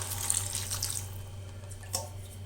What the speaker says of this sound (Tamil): இந்த முருங்கைக்காய் வேகிறதுக்கு நம்ம கொஞ்சம் தண்ணி ஊற்றிக்கணும்.